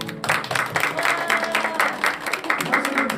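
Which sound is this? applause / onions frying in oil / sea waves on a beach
applause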